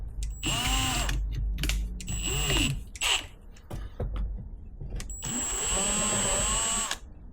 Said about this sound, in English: I think what we're gonna have to do is countersink this hole just a little bit. So we grab our Harbor Freight Unibit.